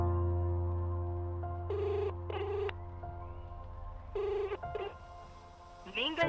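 Electronic telephone ringing tones sound in repeated short bursts with gaps between them, alongside a low steady hum. A short rising warble comes at the end.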